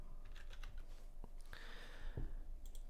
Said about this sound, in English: I'll press tab and I'll just type in something generic